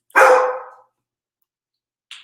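A single loud, close dog bark bursts out and fades over about half a second, then silence, with a short faint yip at the very end.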